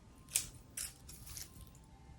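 Scissors cut through a geranium stem being trimmed while potting up overwintered plants: two quiet, crisp snips about half a second apart, with a faint third softer cut, over a low room hush.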